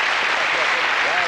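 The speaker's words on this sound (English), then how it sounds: "Give him a nice round of applause." Studio audience at a 1996 snooker game show breaks into applause, a dense, even wash of clapping filling the short stretch at full volume with no break.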